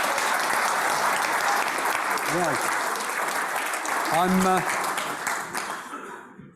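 A conference audience applauds after a session talk, steady clapping running throughout and fading at the end, with a voice speaking briefly over it.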